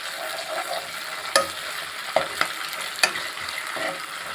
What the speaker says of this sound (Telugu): అల్లం వెల్లుల్లి పేస్ట్ వేసుకొని బాగా వేసుకోవాలి దీన్ని ఇట్లా.